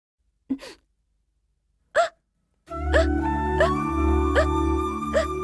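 Two sharp hiccups sound a moment apart in near silence, then a loud sustained tone with repeated chiming notes takes over, all from a Tamil-dubbed film scene.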